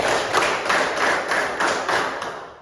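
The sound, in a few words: class clapping a counted number of times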